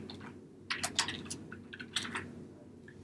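Fingers typing a name on a computer keyboard: a short burst of crisp, close key clicks in quick irregular rhythm, pausing briefly, then a few more taps over a low steady hum.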